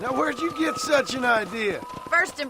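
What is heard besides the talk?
No everyday noise stands out behind the speech.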